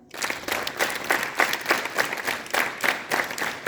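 A school assembly claps in a quick, regular rhythm, many hands striking together in steady bursts with no voices over them.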